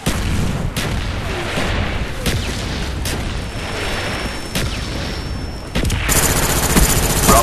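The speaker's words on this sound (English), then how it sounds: "Friendly mortars inbound." Friendly mortar strikes in Call of Duty: Black Ops, Domination on the Hangar 18 map: loud, dense barrage of booming impacts and gunfire, with sharp hits at regular intervals and a louder burst near the end.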